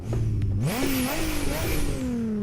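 A manual H-pattern car in a driving simulator game revs loudly and aggressively, its engine pitch climbing and shifting continuously through the gears without a break.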